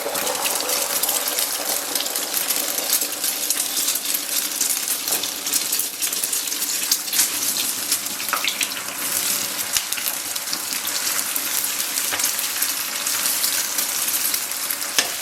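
An egg hits faintly smoking hot oil in a wok, giving a loud, continuous close-up sizzle with crackling pops and spatter that holds steady without any talk.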